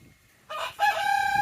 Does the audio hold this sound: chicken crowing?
yes